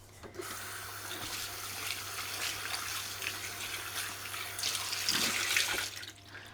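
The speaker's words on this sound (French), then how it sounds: "Juste rincer mon moule du coup." Tap water runs steadily over a silicone cake mould being rinsed in a sink, a close, continuous splashing stream lasting several seconds before stopping.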